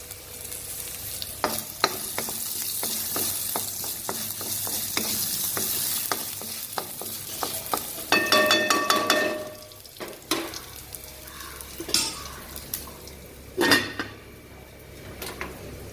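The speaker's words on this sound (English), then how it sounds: "So now the potatoes are cooking in low flame." Potatoes sizzle in a pan on low flame for a kurma, stirred with a utensil that scrapes and clinks against the metal in repeated close strokes over a steady frying hiss.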